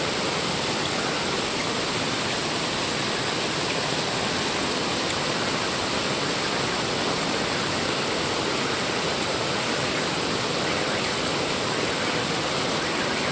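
Heavy rainwater rushes after a downpour in a Chinese apartment area, a loud, steady, dense roar of flowing water running continuously with no pauses.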